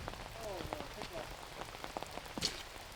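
Rain falls steadily on a disc golf course, a soft patter of drops on wet ground and foliage with a few sharper ticks, while distant voices murmur underneath.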